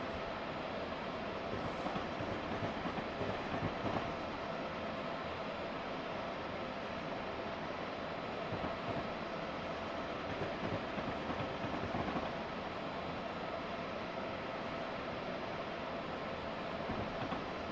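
A train runs steadily along the track in the Open Northeast Corridor train simulator, a continuous dense rumble with faint rhythmic rail clicks throughout, no voices.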